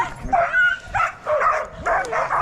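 Sled dogs on a line yipping, barking and whimpering in short excited bursts, several calls close by in quick succession.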